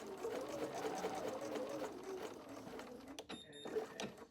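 Home sewing machine stitching fabric for a cross-stitch project, a soft rapid mechanical whir close by that slows and stops near the end, with someone talking over it.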